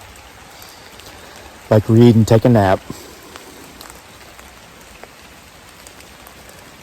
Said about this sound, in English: I'm going to go get in and out of this rain.